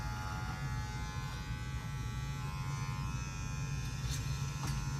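An electric hair clipper buzzes steadily and close by while cutting hair for a low drop fade, a continuous even hum that runs unbroken with no speech.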